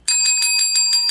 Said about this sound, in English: here's my bell